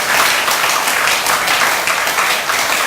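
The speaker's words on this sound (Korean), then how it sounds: "믿으시면 천진 참부님께 감사의 박수를 한번 해주십시오." A church congregation applauds during a Sunday worship service, a loud, sustained roar of many hands clapping together from start to finish, close and continuous with no speech.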